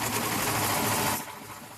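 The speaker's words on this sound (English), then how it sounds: "Okay, now I'm going to start sewing." A Singer Stylist 2 serger stitching fabric, a steady fast mechanical whir that runs close and loud, then eases slightly toward the end, with no voices.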